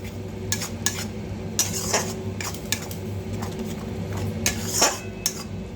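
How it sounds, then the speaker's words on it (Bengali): Spice masala with turmeric and cumin powder stirred and sautéed in a pan, a steady close clatter of spatula scraping against metal with sharp scrapes and knocks over a continuous low hum. "এখন ভালো করে মশলাটা কষিয়ে নেব"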